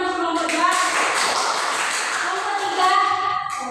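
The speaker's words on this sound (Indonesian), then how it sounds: "Oke, beri tepuk tangan untuk kelompok 2." Classroom applause for a student group, steady dense clapping from a class of children with voices mixed in, continuing evenly for several seconds.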